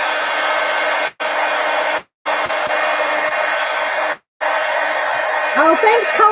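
A hair dryer blows steadily on wet paint in an art journal, loud and close, cutting out abruptly three times before starting again, with a brief voice near the end.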